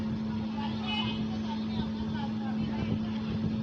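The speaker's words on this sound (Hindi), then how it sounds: "इसको भी हम पूरी सिलाई लगा लेंगे" A sewing machine hums steadily while stitching a baby shalwar kameez suit, a constant motor drone with a strong low tone running the whole time, with a voice talking over it.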